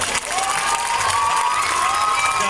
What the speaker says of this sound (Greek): Ένα χειροκρότημα ακόμα.